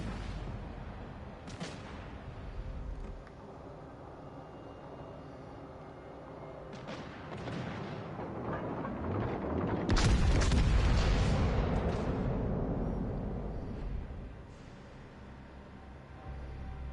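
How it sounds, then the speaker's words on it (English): Warship guns fire in the naval video game World of Warships Legends, heard as deep, rumbling booms and blasts over a continuous low drone, with a heavier swell of explosions midway. "Concentrate fire on the enemy warship."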